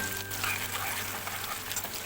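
Potato and broad beans fry with spring onion in a pan, a steady close hiss of sizzling that holds evenly throughout with no talking.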